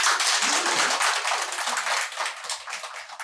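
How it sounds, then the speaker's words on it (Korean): A church congregation at a Sunday afternoon lecture claps in encouragement, giving dense, steady applause that keeps going the whole time and eases off slightly near the end, with no voices over it. "은혜 받으셨으면 격려의 박수 한번."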